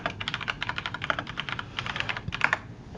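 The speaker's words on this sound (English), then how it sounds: "Where's the ZX Spectrum keyboard?" Rapid, fairly even typing on a ZX Spectrum computer keyboard, a close, quiet run of soft rubbery key clicks with no voices.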